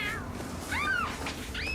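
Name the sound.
cat meowing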